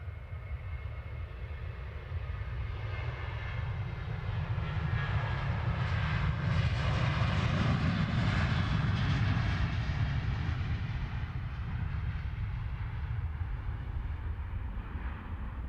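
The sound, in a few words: Ryanair airliner on approach to London Stansted Airport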